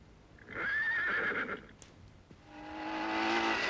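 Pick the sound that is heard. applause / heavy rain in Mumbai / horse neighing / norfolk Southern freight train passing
horse neighing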